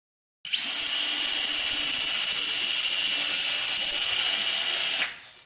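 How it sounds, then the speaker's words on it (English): A cordless drill drilling into a solid wall whines steadily at high speed for several seconds, loud and close, starting abruptly and stopping sharply. "So if you are drilling into solid wall, go for the mode just after auto."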